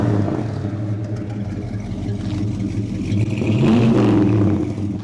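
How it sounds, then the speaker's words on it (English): A 1974 Gran Torino Sport's engine idles with a deep rumble, then revs up louder and rises in pitch toward the end, close and strong. "rev the engine"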